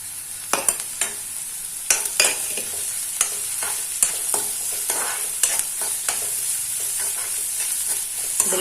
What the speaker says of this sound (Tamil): இந்த வெங்காயம் இது நல்லா வதங்கினோடனே நம்ம மஷ்ரூம்ஸை சேர்த்து கொஞ்சமாக உப்பு மஞ்சப்பொடியும் சேர்த்து வதக்கிடலாம்.